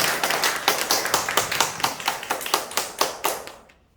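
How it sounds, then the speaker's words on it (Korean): A church congregation clapping together in thanks at the end of a Sunday sermon, dense steady applause from many hands close by, fading out over the last half second. "우리 다 함께 하나님께 감사의 박수 올려드리며 말씀을 마칩니다"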